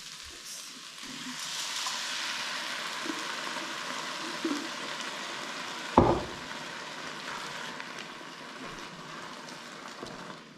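Onions and peppers sauté in a pan with a soft, steady sizzle, broken by a few light stirring clinks and one sharp knock of a utensil partway through.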